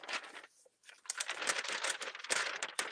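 Sheets of paper being turned and handled, giving dry crinkling and rustling bursts up close, with a brief pause before a longer stretch of continuous papery rustle.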